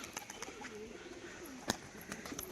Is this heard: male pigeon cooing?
yes